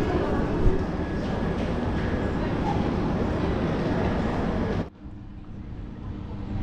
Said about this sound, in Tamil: நம்ம ட்ரெயின் பார்த்தீங்கன்னா காட்பாடிங்கிற ஜங்ஷன்லேருந்து டிபார்ட் ஆகி போயிட்டுருக்குதுங்க